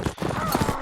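Hooves clip-clop from a horse ridden in the Hundred Years' War era battle game Mount & Blade: Warband, a steady rapid rhythm under continuous battle noise and someone talking.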